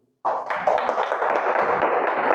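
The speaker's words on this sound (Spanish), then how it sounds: "Dale un fuerte aplauso a nuestro Señor Jesucristo." A church congregation bursts into applause, the clapping starting abruptly from near silence and continuing as a steady, fairly loud patter of many hands.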